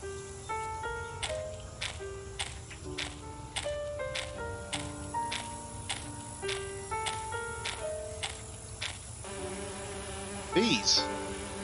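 Bees buzz continuously in a droning swarm in the Agatha Christie: And Then There Were None video game, beneath soft melodic game music with plucked notes.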